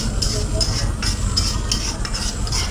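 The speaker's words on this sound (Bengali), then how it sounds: "তো সব কিছু একসাথে এখন মিশিয়ে নিতেছি।" Bottle gourd peel being stirred and fried in a pan, giving a continuous scraping, rustling stir over a dense sizzle, close and loud throughout.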